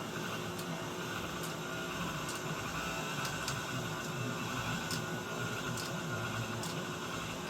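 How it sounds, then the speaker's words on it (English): A KitchenAid stand mixer with a shredder attachment grates cheese remnants, making a steady, dense motor whir and grinding rush at a constant level, with faint regular ticks throughout and no voices. "Here's some cheese shredding action with my KitchenAid mixer."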